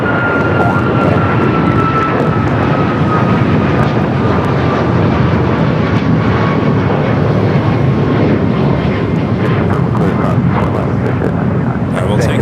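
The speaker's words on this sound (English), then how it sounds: "Air France. Flight 20, coming from Paris, the 777-300ER." An Air France Boeing 777-300ER jet arriving from Paris roars past at LAX. Its loud, sustained engine rumble carries a slowly falling whine, and someone talks over the noise.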